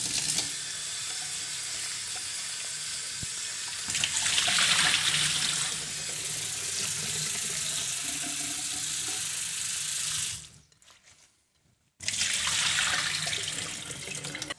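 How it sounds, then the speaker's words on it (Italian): Broccoli florets rinsed under running kitchen tap water, a steady rushing splash into a sink that swells louder as the flow changes, stops abruptly for a moment of silence, then resumes. "adesso non ci resta che risciacquare bene sotto acqua corrente appunto le cimette."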